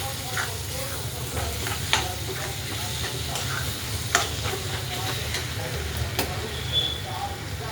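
Amaranth greens are stirred into onions frying in a pan, a continuous close sizzle broken by repeated scraping and clinking strokes of a spoon against the metal, with a voice faintly underneath.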